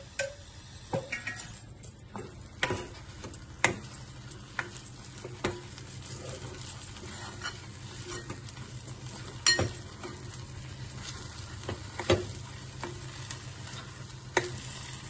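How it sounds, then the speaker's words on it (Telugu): Halwa mixture with ghee is stirred in a pan on the stove, with a steady soft sizzle and repeated sharp clinks and scrapes of a spoon against the metal throughout. "మంచిగా ఇట్లా దగ్గరికి వచ్చేదాకా కలుపుకొని మంచి గట్టి పడ్డాక తీయాలి"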